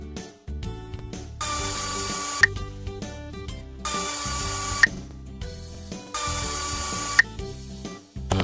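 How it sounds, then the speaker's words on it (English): Wheel nuts being unscrewed in a Paw Patrol kids' car service game: three mechanical power-tool whirs of roughly two seconds each, each ending in a sharp click, over a light backing tune. "To pull the wheel off, you need to unscrew four nails."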